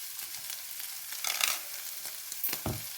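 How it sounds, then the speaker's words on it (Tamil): Capsicum sautéing in a pan for noodles makes a soft, steady sizzle with a few light stirring clacks and scrapes, close but fairly quiet. "வதங்கி வரட்டும்"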